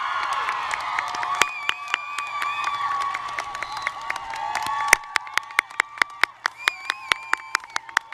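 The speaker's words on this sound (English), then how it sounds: "Can you all please join me in one enormous round of applause for the class of 2021?" Graduation crowd at a 2021 commencement cheering and applauding the graduating class, with a steady wash of voices and whoops. It thins out into sharp, scattered individual claps near the mic.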